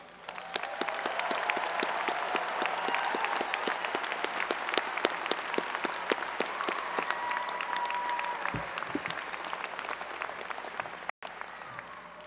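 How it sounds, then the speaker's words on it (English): A large audience at a 2012 engineering college convocation applauds the graduating class, steady crowded clapping with sharper individual claps popping out, continuing evenly before tapering. "Please join me in applauding the 2012 graduating class of the Engineering"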